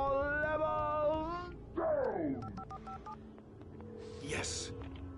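A telephone in Alan Wake Remastered: dialing tones and short electronic beeps among other game sounds, with a voice heard near the start, moderately loud.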